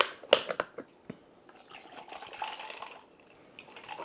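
Milk poured into a glass of iced coffee, beginning with a few sharp clinks of ice followed by a soft, close liquid trickle and splash, quiet and brief.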